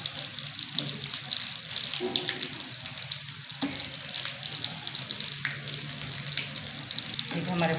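Aloo chicken nuggets frying in oil, a close, steady crackling sizzle with a few stirring and clinking touches and no talk.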